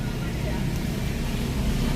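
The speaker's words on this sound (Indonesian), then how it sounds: "Kita tunggu beberapa saat agar putaran mesin stabil" A Ford Fiesta Trendy with a 1.4 engine and Triptonic automatic transmission idles just after starting, a steady low rumble with a faint hiss, close and unbroken.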